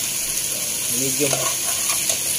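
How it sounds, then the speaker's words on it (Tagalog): Chicken pieces being stirred and browned in a pan over medium heat for tinola, a soft sizzle with scraping stirring noises in the middle, fairly quiet and steady. "Yung haluin ko lang guys hanggang sa mag brown tong manok."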